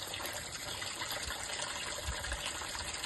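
Jeevamrutha, a liquid farm fertilizer, pours through a valve outlet into a 100-litre drum and on into a tank, a soft continuous gush and trickle that stays faint and even throughout.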